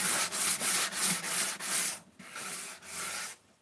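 Sandpaper rubs the edges of a wooden piece in quick repeated strokes, about six even passes, then a pause and two longer scuffs, close and loud with no talking.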